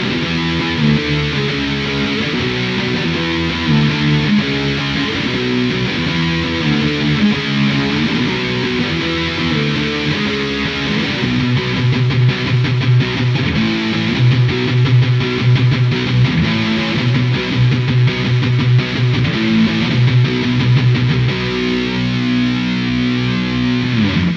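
A Schecter 006 Extreme Diamond Series electric guitar plays through heavy distortion, with loud, continuous rock riffs and chugging palm-muted chords throughout and no talking.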